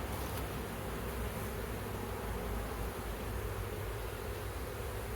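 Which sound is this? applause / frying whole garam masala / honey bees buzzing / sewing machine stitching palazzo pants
honey bees buzzing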